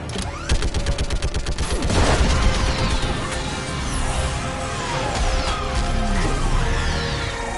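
Dense gunfire crackles through a Mass Effect 3 battle against a live Reaper, rapid overlapping shots and bursts with heavy impacts, loud and continuous throughout with a booming swell partway in.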